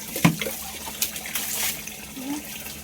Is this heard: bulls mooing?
no